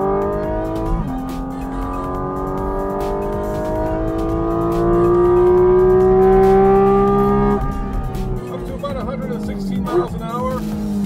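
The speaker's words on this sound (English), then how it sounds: "Incredibly quick downshifts, as you can hear." Porsche 718 Cayman GT4 RS engine on track, rising high-revving wail that climbs steadily then drops through quick successive downshifts with sharp blips, heard from inside the car under a driver talking.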